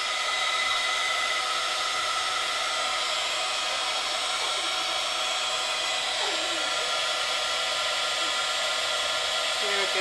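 A steady, loud blowing whir of a heat gun melting embossing powder, running continuously at close range, with a faint shifting hum beneath.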